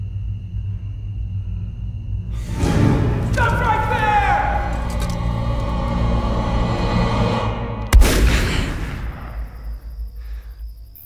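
A single sharp gunshot cracks out near the end over a rumbling, busy background with voices, in a field.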